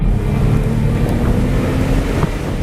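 A Porsche 911 Turbo Cabriolet under way gives a steady, loud engine and induction drone mixed with wind roar. The sound holds even rather than climbing, and no one speaks over it.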